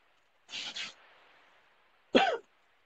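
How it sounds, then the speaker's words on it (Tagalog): A person close to the microphone coughs twice in quick succession, then after a pause gives one harsh throat-clearing cough during an indoor live stream, with quiet background hum between. "Inuubo pa ako"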